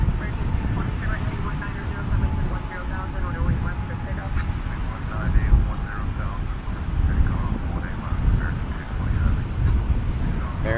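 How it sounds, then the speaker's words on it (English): A Boeing Dreamliner airliner passing at Dallas Fort Worth International Airport, heard as a loud, steady broadband jet roar that holds throughout, with people talking over it. "here comes our Dreamliner headed to Amsterdam"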